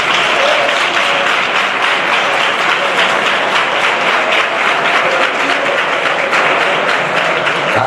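A worship congregation claps hard and steadily, a dense, loud wall of applause that holds without a break from start to finish.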